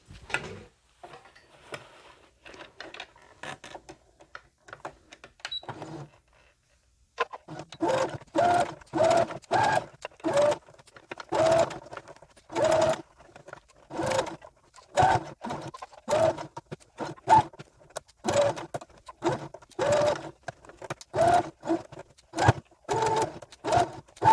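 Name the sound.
sewing machine stitching a doll backpack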